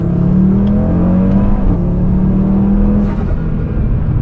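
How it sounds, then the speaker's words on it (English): A 2019 Audi RS3 engine, rebuilt after a wreck, revs up and holds with a loud, close, droning roar, its pitch climbing and easing back slightly, with a faint pop near the end and no voices. "it gives the same like blow off valve noises as my 1M and stuff. Like, hang on, listen, bro, like little backfires and everything"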